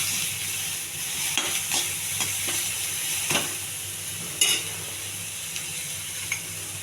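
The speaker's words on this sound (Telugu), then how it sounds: "కరివేపాకు కూడా అప్పుడు వేసేయాలి. కొద్దిగా కలర్ మారే వరకు వేయించుకోవాలండి." Curry leaves fry in a hot pan while being stirred, giving a steady close sizzle and hiss with scattered clinks and scrapes of the spoon against the pan; no one speaks.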